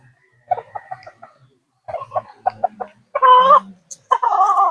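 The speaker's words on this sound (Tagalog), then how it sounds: "Ang ilap naman ng manok mo." Several short clucks from a gamecock come in bursts with pauses between, close by, followed by a louder, longer squawking call and more rapid clucking.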